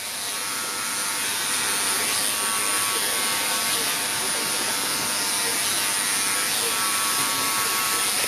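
WAHL hair clippers fitted with a 1.5 guard cut hair at the crown of the head during a barber battle demonstration, giving a steady, close electric buzz that runs unbroken throughout.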